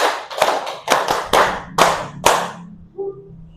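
Sharp hand claps from a group in a classroom ice-breaking clap game, close and crisp in an irregular rhythmic pattern of about seven claps, ending with a brief shouted voice.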